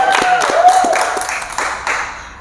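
Scattered hand clapping from an audience at a civil engineering student event, a few uneven claps over a steady hum of room noise, fairly close, with no speech.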